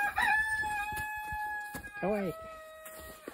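Silkie chickens on a snowy winter farm give a couple of loud, close, drawn-out calls with a short sputtering cluck between them, while someone speaks briefly nearby.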